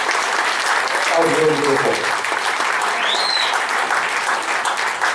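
An audience at a veterans arts event breaks into sustained applause for a performer, a steady wash of clapping that holds for several seconds while a voice speaks briefly over it.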